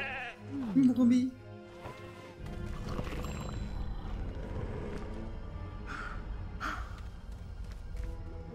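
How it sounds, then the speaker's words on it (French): A sheep, a ewe, bleats in the video game Lego The Hobbit, a loud wavering cry near the start, followed by game ambience and a few faint bleats. "Oh, une brebis."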